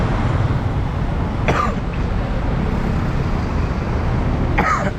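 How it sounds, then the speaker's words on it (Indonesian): Two short coughs, about three seconds apart, rise above a steady hum of road traffic on a bus journey from Ho Chi Minh City to Phnom Penh, with no other voices. "masih batuk"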